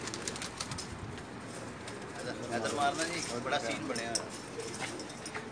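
Pigeons coo softly on a rooftop loft, low and fairly faint, with occasional wing flutters and light clinks as someone talks over them.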